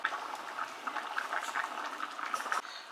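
Covered curry with raisins bubbling over medium heat, a steady soft patter of small pops and bursts at close range, with no voices.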